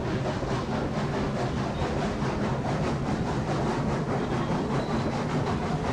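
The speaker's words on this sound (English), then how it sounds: "Let me know if the train volume gets too loud." A train rolls along rails in the railroad game Railroads Online, a dense, continuous rumble with faint rhythmic clatter that holds steady and loud throughout.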